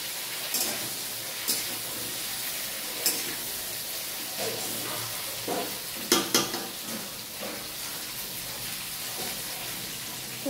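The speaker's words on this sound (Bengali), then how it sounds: "কপিটা ভাজা চলছে" Cauliflower fries in a pan with a low, steady sizzle, broken by sharp clinks and scrapes of a utensil stirring against the metal, fairly faint and close, with no talking.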